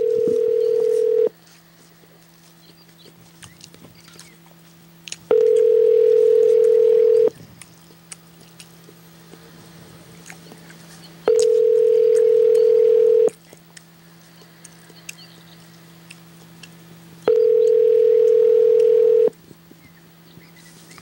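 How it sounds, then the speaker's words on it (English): A cell phone call rings out: a steady ringback tone sounds in four evenly spaced bursts of about two seconds each, separated by longer pauses over a faint background hum, with no talking. "call Andrew on his cell phone"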